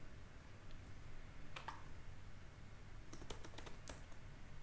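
Quiet keystrokes on a computer keyboard while entering an npm install command, heard as a few separate taps and then a short quick burst of clicks over a faint background hiss.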